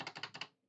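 Five quick, close keystrokes tap out on a computer keyboard in a fast even burst while code is typed, then fade to silence; faint and alone.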